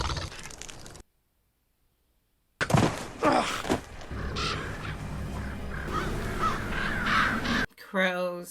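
Crows caw in a Game of Thrones scene over a noisy, busy backdrop with a short silent gap near the start, and people talk across most of it.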